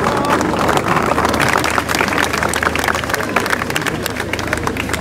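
An audience at the inauguration of Place Slimane Azem in Paris applauds a singer, dense sustained clapping that fills the space and tapers off slightly, with a few voices underneath.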